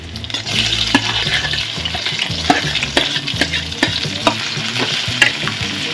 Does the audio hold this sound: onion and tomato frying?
yes